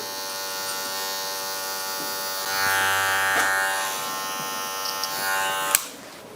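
Electric hair clipper buzzing steadily through a skin fade at a barbershop, a close continuous hum that swells louder midway as the blades bear down, with a sharp click near the end.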